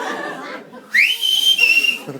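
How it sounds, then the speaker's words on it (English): A man whistles a short rising note that holds steady, a clear tune-like whistle heard close up after a brief murmur, during a wedding best man speech. "He's whistling."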